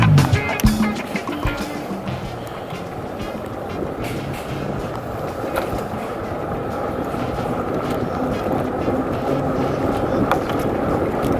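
An AddMotor P7 electric bike ridden in pedal assist mode 1, with steady rolling tire and drivetrain noise mixed with wind rush throughout, continuous and even, with no distinct motor whine standing out.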